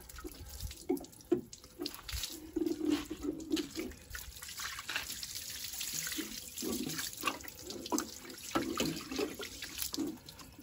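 Water rinses a motorcycle during a wash, a steady close hiss of spraying and splashing water with uneven surges and dripping throughout, with no talk.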